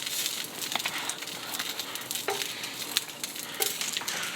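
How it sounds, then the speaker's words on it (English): Tomatoes sizzling in a hot frying pan over medium-high heat, a quiet steady hiss with scattered pops and a few stirring scrapes. "Get a little sizzle."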